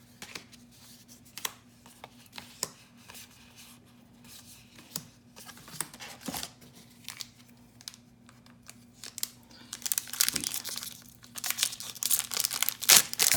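Crinkly plastic wrapping of Magic: The Gathering Modern Horizons booster packs being torn and handled, scattered soft rustles and crackles building into louder, busier tearing near the end, with no talk.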